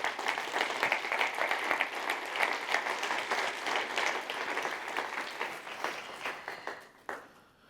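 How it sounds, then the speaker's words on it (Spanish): An audience at a science talk applauds to welcome a speaker onto the stage, a steady crowd ovation that fades slightly toward the end. "Un aplauso para él."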